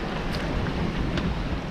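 Brisk wind of around 20 knots gusting to 25 while sailing single-handed off the Irish coast, a steady loud rushing roar buffeting the microphone with no letup.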